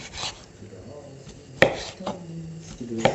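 A knife roughly chops home-smoked meat on a board in a few sharp, uneven strokes, with soft rustling and faint background talk.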